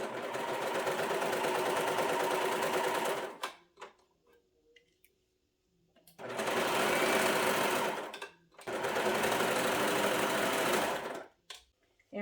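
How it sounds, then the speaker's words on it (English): Sewing machine stitching a seam with backstitching on a maxi dress: three loud steady whirring runs of several seconds each, separated by brief quiet pauses with light handling clicks. "If you're using sewing machine, backstitch at the beginning, 3/8 of an inch seam allowance all the way to the end, and backstitch at the end."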